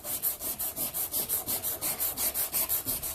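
Wet sandpaper rubs back and forth over an aluminum part in a fast, even rhythm of about four hissing strokes per second, close and steady throughout.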